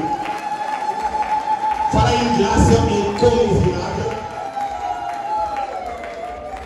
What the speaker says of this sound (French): je nous demande d'applaudir très fort pour cette grâce devant nous